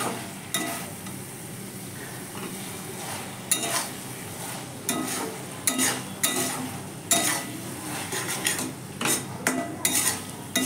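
A utensil scrapes and clatters against a pan while boiled, fried flat beans are tossed with spices and coconut paste, giving irregular close stirring strokes over a low sizzle.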